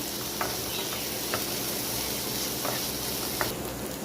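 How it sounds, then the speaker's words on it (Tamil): Onions sautéing in a pan while making mutton blood fry, a steady broadband sizzle with a few light clicks of stirring, close and continuous with no talk. "இப்போ இந்த வெங்காயம் வந்து கொஞ்ச நேரம் போல் நல்லா வதங்கட்டும்."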